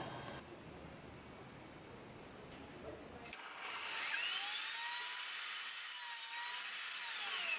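A power saw cuts a 45-degree miter joint in a frame piece for a folding study desk, starting after a quiet stretch of faint rustling and then holding a loud, steady high-pitched whine close by without speech.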